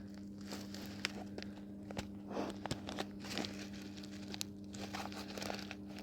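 A dry ration pack's plastic packaging is torn and crinkled outdoors, a quiet, irregular series of rustles, crackles and sharp little rips with no voice.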